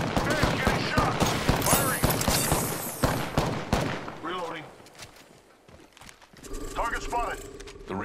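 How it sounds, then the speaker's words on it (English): Rapid bursts of automatic gunfire in the Apex Legends battle royale, sharp repeated shots crowding the first few seconds, then fading to quieter exchanges before another flurry near the end, with game voice lines over the action. "Making contact with enemy. Damn, getting shot. Firing. Reloading."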